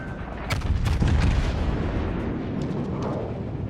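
Battleship Yamato's heavy guns fire in World of Warships: Legends, a loud booming salvo with a sharp onset followed by a long rumbling roar that slowly decays.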